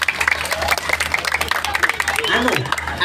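Crowd applause at an Islamic pengajian religious gathering in Kediri, a dense patter of scattered claps running steadily throughout under voices and a low background hum.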